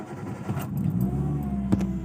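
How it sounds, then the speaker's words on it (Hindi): A 2010 Hyundai Santro hatchback's engine cranks and catches, settling into a steady low idle hum with a small jangle of keys, close and alone. "चलिए गाड़ी स्टार्ट करते हैं अभी।"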